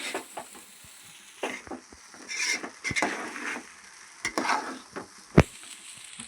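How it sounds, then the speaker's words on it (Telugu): Rice frying in a pan while being stirred, soft sizzling under intermittent scrapes and clacks of the spoon against the pan, close and alone. "వేసుకున్నాక బాగా ఒకసారి అంతా కలిసేటట్లు తిప్పేసుకుందాం"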